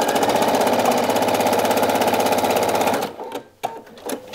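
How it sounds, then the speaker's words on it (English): A home sewing machine runs steadily for about three seconds, stitching along a fabric seam with a fast, even mechanical chatter, then stops, leaving a few light handling clicks. "I'm just going to go along next that seam and stitch just a little bit more."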